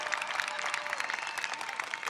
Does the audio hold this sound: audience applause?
yes